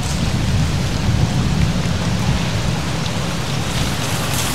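Wind blowing outdoors beside a fish pond in the countryside, a steady, loud, broadband rushing roar that holds without a break throughout, close to the microphone and with no voices.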